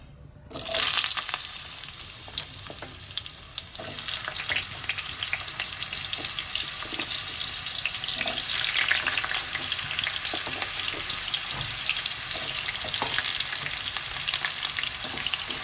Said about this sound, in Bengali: তেল গরম হয়ে গেছে, এবার প্রথমে আমি আলু দিয়ে দিচ্ছি।